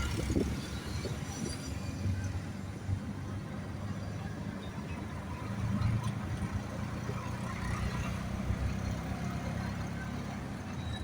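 Auto rickshaw engine droning steadily during a ride from Khandeshwar station toward Kamothe, Panvel, with constant low road rumble and traffic noise throughout, no talking.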